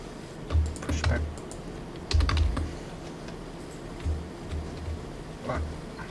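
Bursts of computer keyboard typing, rapid clattering keystrokes in short clusters with pauses, close to the microphone over a low room hum.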